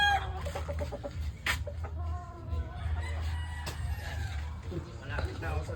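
Caged gamefowl roosters kept as breeding stock at a game farm cluck and chatter nearby, with a crow rising among them, while someone talks over the birds.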